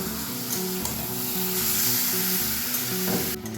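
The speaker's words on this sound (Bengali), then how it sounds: "এবার মাংসটাকে আমি খুব ভালোভাবে কষিয়ে নেব।" Spiced chicken frying in a pan while being stirred, a loud, close, continuous sizzle broken by rhythmic scraping strokes of a spatula, no speech.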